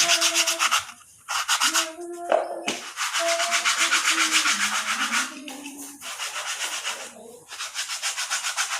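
A small part for a restored Win 100cc motorcycle is scraped and sanded smooth by hand in steady back-and-forth strokes, close and fairly loud, with short pauses between passes.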